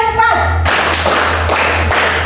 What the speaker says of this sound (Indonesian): Tepuk 1. Tepuk 2. Tepuk 3. Tepuk 4. Tepuk 5.